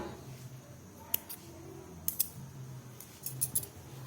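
Scissors trimming the tassel threads of a saree, giving several sharp snips in small clusters, fairly close against a quiet background.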